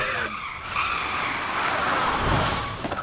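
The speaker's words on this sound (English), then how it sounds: "Why are all these cars drifting so hard?" Car tyres screech loudly as vehicles drift hard, a continuous skidding squeal with engine roar swelling and fading close by.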